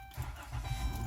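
A car engine cranks and catches after the key fob is inserted into the ignition slot of a keyless-ignition car, a short loud rumbling burst close by.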